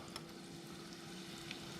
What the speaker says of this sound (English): what we're looking for is that little bit of sizzle when we set this cutlet in there